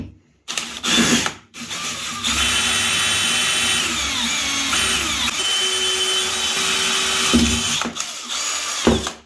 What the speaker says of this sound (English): I'm going to have to drill it out.